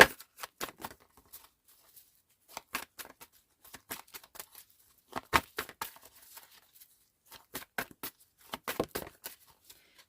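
Tarot cards being shuffled and drawn, heard as close, dry bursts of riffling and flicking that come in short clusters separated by quiet pauses, with no talking.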